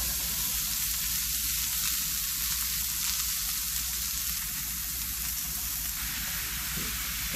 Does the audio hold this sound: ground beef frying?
yes